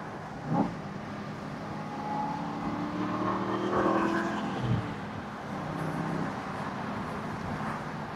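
A 2009 Aston Martin Vantage with a six-speed gearbox drives along, its engine a steady mid-level drone throughout, with a brief thump near the start and slight swells as it pulls.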